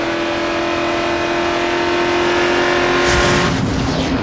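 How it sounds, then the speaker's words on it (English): NASCAR stock cars roaring around the track during the 2002 Pepsi 400, a loud steady engine drone with the pitch swelling as cars blast past close by near the end. "Now, there's Stewart to the left as you ride with Sadler"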